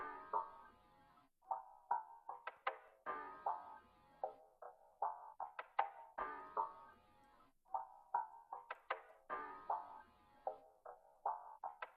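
Two layered percussion loops from the Crew creative sampler kit play together, a busy pattern of short knocking and ticking hits with clicky accents repeating in a groove, close and alone without any talking.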